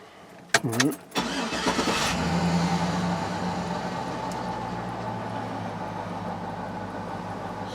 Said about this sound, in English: I want to crank the truck up